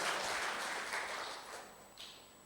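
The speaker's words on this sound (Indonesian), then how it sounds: "Tepuk tangan bagi Tuhan kita yang luar biasa." Applause rises from a congregation during a church service, a broad wash of clapping that gradually thins and fades, with a brief swell near the end.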